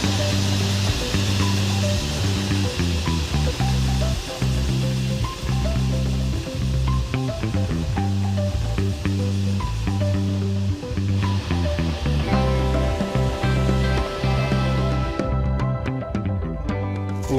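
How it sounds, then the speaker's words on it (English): A corn grinder runs loud and steady, milling corn with added water into masa at a tortilleria, a constant droning mechanical hum with rhythmic scraping and grinding pulses, close up with no talk. "now that we have the corn here and everything is ready, we have the grinder set up"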